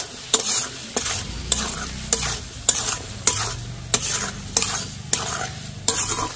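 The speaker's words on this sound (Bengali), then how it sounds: "ভালো করে নেড়ে নেব" Chicken fried rice with soy sauce, salt and ground pepper being tossed and stirred in a hot pan: a regular series of about ten sharp scraping strokes over a soft sizzle, close and alone.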